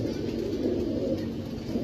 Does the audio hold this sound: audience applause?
no